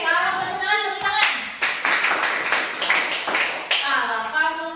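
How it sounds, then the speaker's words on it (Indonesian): A class of children and their teacher clap hands together in a cheerful school session, a burst of brisk, roughly rhythmic claps set between bits of sung or spoken voices at either end. "Oke, kalau bersemangat tepuk tangan."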